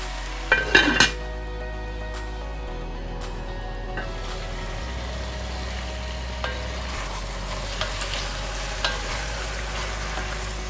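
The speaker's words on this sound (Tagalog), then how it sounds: "cook this until the chicken renders some fats" Chicken cooks in butter in a pan, a steady soft sizzle throughout, with a few sharp utensil clinks and stirring scrapes near the start and scattered light taps later.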